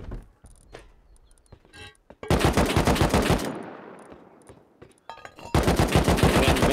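Gunfire in the survival game Rust: faint scattered shots, then a loud automatic burst, a fading echo, and another loud rapid volley at the end, heard close and sharp.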